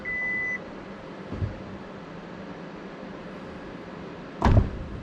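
Kia EV6 power tailgate closing electrically: a warning beep first, then a quiet motor hum, a soft bump partway through and a firm latching thud near the end.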